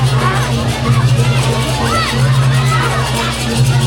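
Crowd in Bali scattering and shouting as a couple of barong chase them, loud close babble of yelling voices with bursts of excited shouts over a constant low drone.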